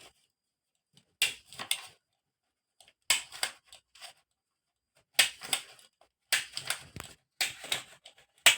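A stapler pins the sides of a folded A4 paper bag, giving five separate bursts of sharp, close clacks with short silent gaps between them.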